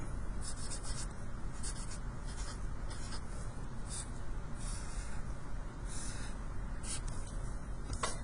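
A pen scratches across a paper foldable in short strokes with brief pauses, close and fairly soft over a constant low background rumble.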